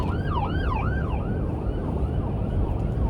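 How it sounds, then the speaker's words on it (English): A wailing ambulance siren rises and falls in quick sweeps over heavy road rumble, moderately distant, heard from inside a car, then fades into the traffic noise. "Ambulance."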